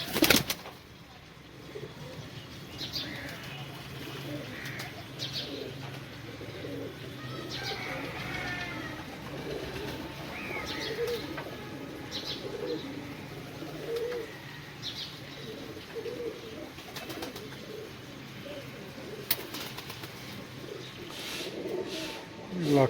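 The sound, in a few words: pigeons cooing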